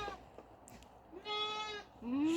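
A goat on a farm, a female that is unwell and frothing at the mouth, gives two drawn-out nasal bleats close by, the second louder and rising, against quiet background noise.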